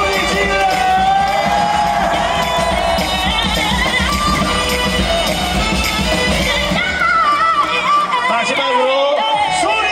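At a Hanwha Eagles baseball cheerleading performance, a big crowd roars and cheers in a loud, steady wave of shouting voices, with excited chatter mixed in before the noise thins slightly at the end.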